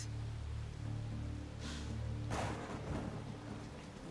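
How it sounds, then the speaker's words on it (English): Steady rain hiss in Assassin's Creed Odyssey, a constant wash of falling water with a low game hum beneath and a brief thunder-like swell partway through, no talk. "The rain effect looks really bad here,"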